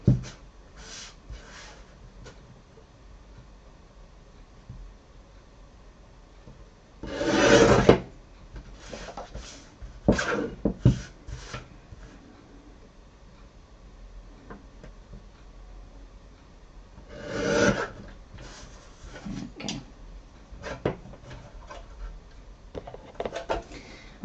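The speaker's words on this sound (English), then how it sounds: "So again, just use my trimmer just to tidy that up." A paper trimmer cuts through card, with two distinct louder sliding cuts spaced apart and scattered lighter clicks and handling sounds in a quiet room.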